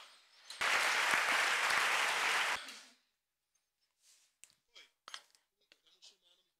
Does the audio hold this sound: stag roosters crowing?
no